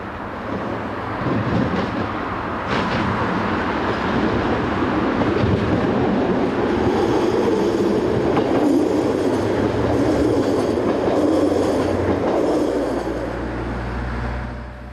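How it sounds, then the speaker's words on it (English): Diesel commuter trains arrive and depart at a busy Jutland station, a continuous loud rumble of engines and rolling cars with wheel squeal and a low engine drone building toward the end. "the station is busy with commuter activity, with diesel units arriving and departing constantly"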